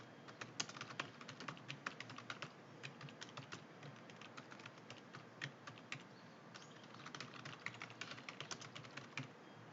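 Keys on a computer keyboard are tapped in quick, uneven bursts while cell contents are filled into a spreadsheet, close and fairly quiet, with no voices.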